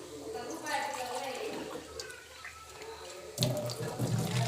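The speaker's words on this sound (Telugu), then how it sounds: "ఈ క్యాబేజ్ అనేది మనం క్లీన్ వేసుకుంటున్నాను" Cabbage is rinsed under a running kitchen tap, water splashing and trickling steadily, then turning louder and fuller near the end, with a person speaking over it.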